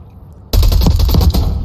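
AK rifle fire in a video game erupts after a brief quiet moment into a loud, rapid automatic burst of closely spaced shots that continues to the end.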